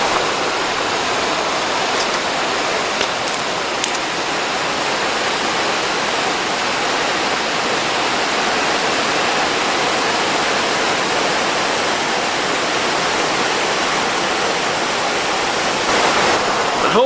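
Water pours over a dam on the Union Canal in a loud, continuous broadband rush that stays steady throughout, with no voices.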